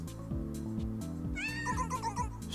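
A cat meows in the rhythm game Mad Rat Dead, a few rising, wavering calls laid over a steady, pulsing electronic music beat, with no speech.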